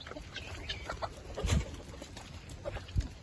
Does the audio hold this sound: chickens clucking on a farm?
yes